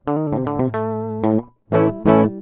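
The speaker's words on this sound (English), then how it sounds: "what you're hearing there is the signal without any processing" Clean, dry electric guitar notes played in a short phrase, then two strummed chords ring out; close and clear with no effects, recorded unprocessed into Cubase.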